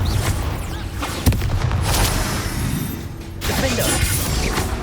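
A Confringo blasting spell cast in the video game Hogwarts Legacy, a sharp crack followed by a booming, shattering burst that rumbles on, then a second blast, loud amid ongoing combat noise.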